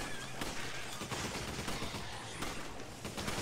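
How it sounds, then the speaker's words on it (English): Shotgun fire in the Resident Evil 5 video game: dense, rapid, overlapping blasts that keep a constant loud barrage for the whole stretch with no pauses. "Shotguns are super effective."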